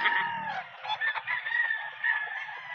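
A hatch gamefowl rooster at a predawn pet market crows loudly and close, a drawn-out strained call lasting a few seconds with faint low murmuring behind it.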